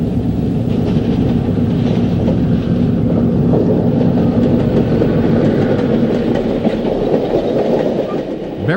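A passenger train rolls past with a heavy, continuous rumble and rhythmic clickety-clack of wheels over rail joints, steady and fairly loud throughout.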